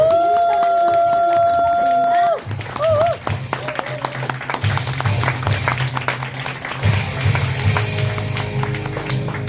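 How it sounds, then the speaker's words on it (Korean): An audience at a Forever Living business seminar applauds to welcome a speaker, a busy run of clapping and cheering rising after a few seconds of music, with voices and tones mixed in. "이분 오실 때 큰 박수로 맞이해 주시면 좋겠습니다"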